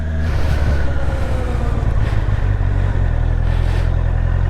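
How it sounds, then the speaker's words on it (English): A 2024 Honda CBR650R motorcycle with E-Clutch pulls away in first gear. The loud, close engine drones steadily, and its low pitch shifts slightly as it gets moving. "E-clutch is activated, so into first with no clutch. Let's go."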